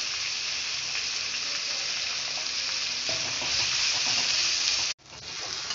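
Onions sauté in a pan for potato poori masala, sizzling steadily as they are stirred, with a louder burst of scraping before a brief cut and the sizzle resuming.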